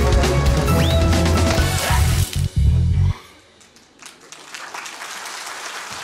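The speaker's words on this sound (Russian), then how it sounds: "Ваши аплодисменты." A studio audience claps and cheers loudly for a comedian at a comedy show, the dense applause ending abruptly and leaving quiet room tone with faint rustles.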